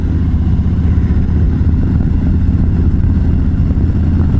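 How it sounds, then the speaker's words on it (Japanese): A motorcycle fitted with a Rinehart slip-on muffler rumbles steadily while riding, a deep, loud, continuous exhaust drone heard up close with road and wind noise. "ラインハートのマフラーをつけて走行してみた"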